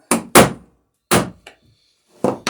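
A hammer strikes a rivet head and burr on a cruising dinghy's bottom in several sharp, separate thunks, two close together, then single blows with short quiet gaps between.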